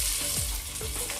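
Bread sandwiches frying in a pan with a little oil or ghee over a medium flame, a steady close sizzle with faint stirring or scraping, no talking.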